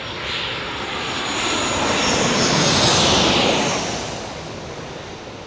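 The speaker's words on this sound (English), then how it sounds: "Southwest Airlines landing here right now." A Southwest Airlines airplane landing at San Diego, its engine roar swelling as it passes close overhead and then easing away into a steady rumble.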